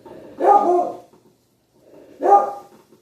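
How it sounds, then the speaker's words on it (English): A dog barks twice, close by, with a pause of over a second between the two sharp barks. "I got a dog barking in the background."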